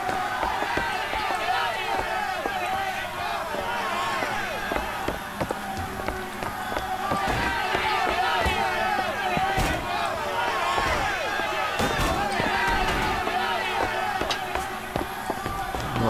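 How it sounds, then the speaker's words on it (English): A dense commotion of many voices shouting over running footsteps, thuds and clatter continues throughout, busy and chaotic, like a riot upstairs in Bioshock Infinite. "But sounds like a riot upstairs or something."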